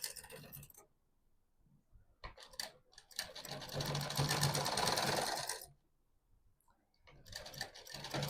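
A sewing machine stitches a round buckram-backed suit neckline in yellow thread, running in steady whirring bursts separated by short pauses, close and clear with no talking.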